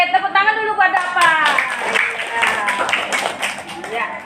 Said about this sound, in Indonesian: tepuk tangan dulu buat Dapa